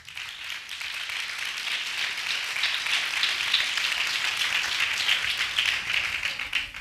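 Loud, steady applause from a crowd at an annual church prayer festival in Nagpur, a dense hiss of many hands clapping that holds for several seconds with no voices over it.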